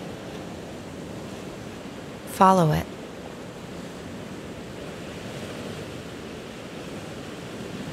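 Steady broadband ocean surf washing onto a sandy beach lined with coastal plants and dunes, a constant soft roar throughout with a brief spoken voice in the middle.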